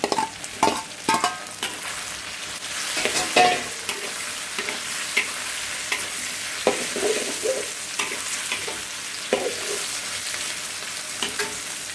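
Steady sizzling of carrots and potatoes frying in a pan, with repeated scraping and stirring clatters throughout, close and fairly loud.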